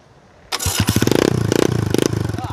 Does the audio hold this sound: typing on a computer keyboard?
no